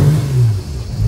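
A car engine starts from a push-button ignition and settles into a steady, close, low idle rumble with slight revving, alone with no talk.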